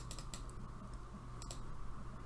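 Keys are pressed on a computer keyboard during 3D software work, a few faint, scattered clicks in small clusters over a low steady hum, with no one talking.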